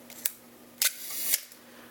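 Sharp mechanical clicks come from a vintage Canon TX SLR film camera as the shutter fires and the film advance lever is cranked, close and crisp, with a brief ratcheting stretch between the clicks.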